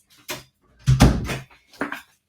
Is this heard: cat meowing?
no